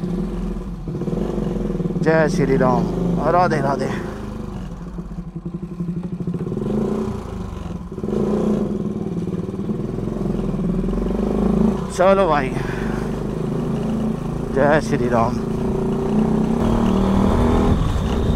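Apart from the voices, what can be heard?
NS motorcycle riding off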